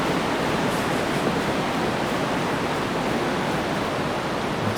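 Loud, continuous rushing water from a hot spring in the video game Skyrim fills the scene, a dense steady splashing roar with no pauses.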